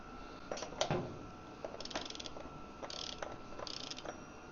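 Ratcheting clicks and mechanical tightening on a Triumph motorcycle part, short bursts of fast clicks separated by brief pauses, close and fairly quiet with no talking.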